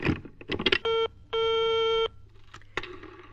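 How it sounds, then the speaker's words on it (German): Telephone line tones in a German children's radio play: a few clattering handling clicks, then two steady electronic beeps, the second one longer, followed by more faint clicks. "Da werde ich doch gleich einmal den Professor anrufen."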